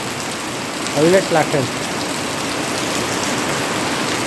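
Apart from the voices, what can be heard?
heavy rain falling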